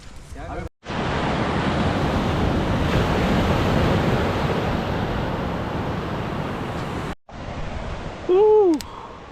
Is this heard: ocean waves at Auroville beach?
yes